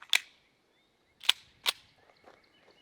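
Smith & Wesson M&P 5.7 pistol firing blue tip 5.7 rounds, three sharp, distant-sounding cracks spaced irregularly, faint overall and with no talk.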